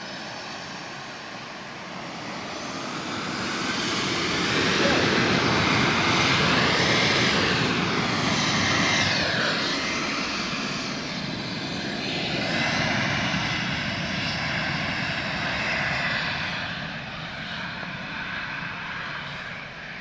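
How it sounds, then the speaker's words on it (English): Airbus A330neo engines at Lisbon Airport make a loud, sustained whine and roar that swells and fades as the jet taxis past, heard alone without talk. "A330neo is on the move, guys."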